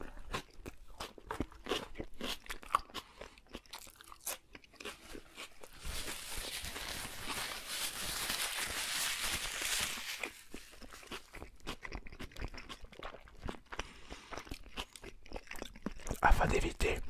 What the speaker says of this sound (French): lorsque vous mangez des burgers très gras, c'est de les manger doucement.